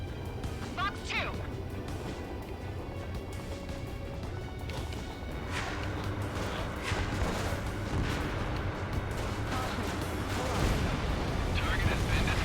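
A missile explosion destroying a target in Ace Combat 7: loud booming blasts and crashes over continuous jet and battle noise, with radio voices talking throughout.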